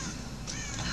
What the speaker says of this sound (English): Why are there crows here?